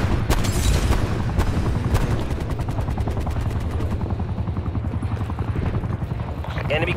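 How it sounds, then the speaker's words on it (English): An attack helicopter in Call of Duty: Black Ops Cold War thrums with a steady, rapid rotor pulse under rattling bursts of gunfire. A voice talks over the din, which stays loud throughout. "Hostile attack helicopter inbound."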